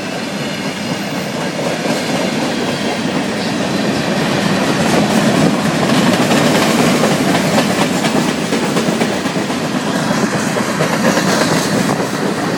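A CN freight train rolls past close by with loud, steady clattering and clickety-clack from the wheels of a flatbed car, a dense rumbling rush that swells midway and keeps going throughout.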